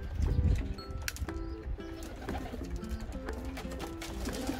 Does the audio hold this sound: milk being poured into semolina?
no